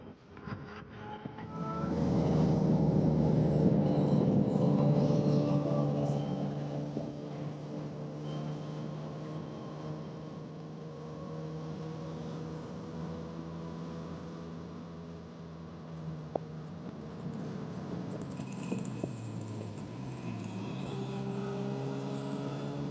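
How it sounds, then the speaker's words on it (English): Two-stroke motorcycles on the move, a 1984 Yamaha RD250 YPVS and a 1981 Suzuki GT200 X5, their engines droning with a steady harmonic whine that rises loud early, then settles into a constant ride-along hum with wind, no talk. "So I'm riding my Yamaha RD250 YPVS. This thing's in 1984, and Kate is riding her Suzuki GT200 X5"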